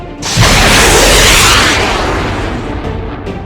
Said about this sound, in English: That sound. A missile?